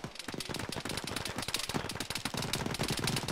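Heavy video-game gunfire crackles in dense, rapid bursts throughout, like close-range enemy contact in a military shooter, with automatic fire rattling continuously and no pauses.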